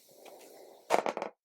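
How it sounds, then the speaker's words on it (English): A D20 die is rolled, with a soft lead-in followed by a quick burst of sharp clattering clicks as it tumbles and settles, close and brief. "I'm going to take my D20 and I'm going to roll 8 times"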